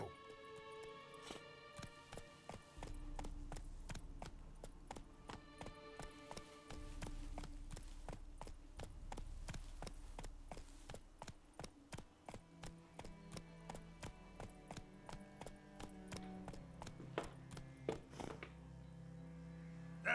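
Roach, the horse in The Witcher 3, galloping with a quick, regular clip-clop of hooves in a steady rhythm, close and fairly quiet over a soft music bed, no voices.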